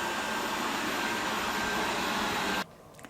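A Tesvor X500 robot vacuum cleaner runs over short shag carpet with a loud, steady whir. It cuts off abruptly near the end, leaving near silence with a faint click.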